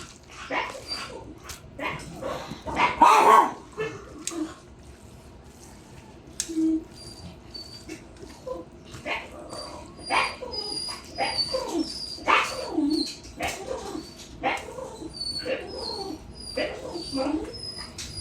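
Senior dogs at feeding time let out scattered barks, yips and whimpering whines, several animals near and far in uneven bursts, with people speaking in between.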